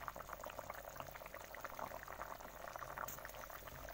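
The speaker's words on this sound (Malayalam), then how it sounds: "തീ കുറച്ചിട്ട് ഒരു 20 മുതൽ 25 മിനിറ്റ് വരെ നമുക്ക് ചാറൊന്ന് കുറുക്കിയെടുക്കാം." Mackerel chili curry gravy simmers on low heat in a pan, giving a steady, close bubbling with dense small pops and soft liquid gurgles, with no talking.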